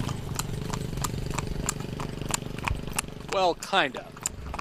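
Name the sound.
horse hooves clip-clopping, pulling a carriage through Edfu streets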